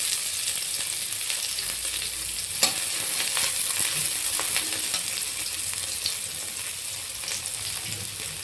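Chopped green chillies sizzle steadily in a hot pan as a spoon stirs them during Gobi Manchurian preparation, a constant close, dense frying hiss with occasional scraping clicks and no talk.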